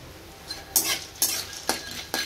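Bori lentil dumplings and papad poppadoms frying in oil, a steady sizzle punctuated by four or five bright scraping clatters of a spatula against the pan, close by with no talk.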